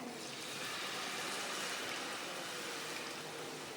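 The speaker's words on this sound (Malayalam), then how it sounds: "നമ്മൾ ഇതിനകത്തോട്ട് എടുത്തു വെച്ചേക്കുന്ന വെള്ളം ഒഴിക്കുവാണേ" Water pours into a container for cooking in a steady, soft, continuous stream that trickles and splashes evenly at a moderate distance throughout.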